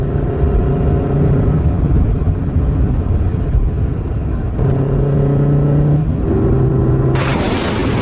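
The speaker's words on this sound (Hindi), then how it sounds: "तभी एक व्यापारी अपनी गाड़ी से गांव में आ जाता है।" A merchant's car drives into a village, a steady low engine rumble with shifting tones throughout, loud and close, ending in a burst of broadband noise.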